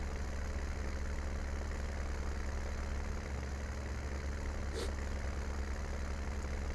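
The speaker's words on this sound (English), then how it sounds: "So yeah, Spencer's tractor is pretty slow." A slow tractor engine in Farming Simulator 19 drones steadily while climbing a hill, a constant low rumble with no voices.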